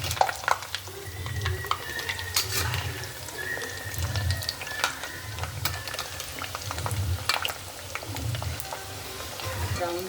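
Muthiya, Gujarati dough dumplings, frying slowly in oil over a low flame, a steady soft bubbling sizzle with occasional crackles and spoon stirs, with no talking.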